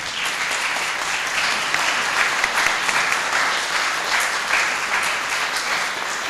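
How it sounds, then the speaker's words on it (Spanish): An audience at a book conversation about Sarmiento gives the panel guests a loud, steady round of applause. The clapping holds dense and even for several seconds, with no voices over it. "solamente quiero pedirles a todos ustedes un fuerte aplauso para ellos."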